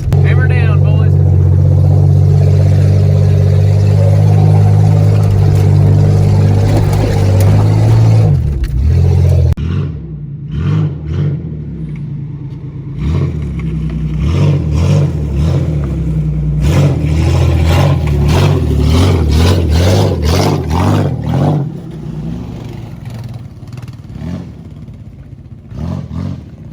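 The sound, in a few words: off-road car engine revving on trail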